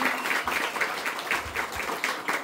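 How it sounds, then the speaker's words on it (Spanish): An audience at an award ceremony for a children's competition applauds, steady and continuous clapping from a moderate-sized crowd, fairly close, with no talk over it. "Y también un fuerte aplauso de todos los visitantes."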